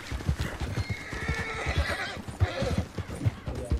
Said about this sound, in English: Oh my god, horse.